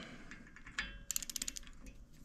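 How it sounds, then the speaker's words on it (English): A torque wrench ratchets on an adjustable ball joint in a quiet workshop, giving a close, faint run of about a dozen quick metallic clicks in a brisk rhythm, preceded by a few softer taps. "Now i put our torque wrench on here."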